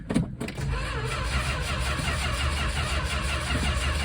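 A 1967 Dodge Coronet engine cranks steadily on a swapped-in battery, a continuous close, loud starter whir with a rapid, even rhythm that never catches and runs.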